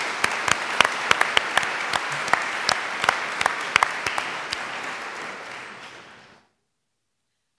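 A conference audience applauds for several seconds, a steady patter of clapping with distinct sharp claps standing out, then cuts off abruptly into silence.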